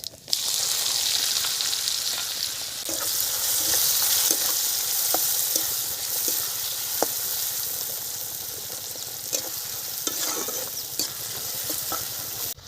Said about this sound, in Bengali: এখানে আমি ফোড়নে দিয়ে দিচ্ছি এলাচ লবঙ্গ দারচিনি জিরে তেজপাতা দিয়ে দিচ্ছি পেঁয়াজ